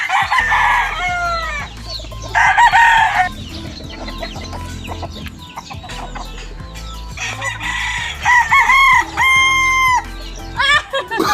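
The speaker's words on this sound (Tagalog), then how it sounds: "Kain yan kayo, mga manok." Fighting-cock roosters crow repeatedly over a steady background of hens clucking, several loud crows overlapping throughout.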